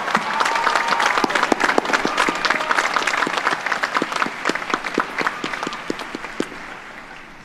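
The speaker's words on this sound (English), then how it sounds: "Students, please join me in a round of applause for the faculty and staff who guided" A large graduation audience at the 2017 University of Virginia College of Arts and Sciences final exercises applauds faculty and staff, with dense, sustained clapping that tapers slightly toward the end.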